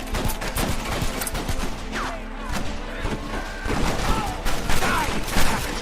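Rapid bursts of gunfire and thuds crack through a shootout in the video game Red Dead Redemption, dense and continuous across the clip with game voices mixed underneath.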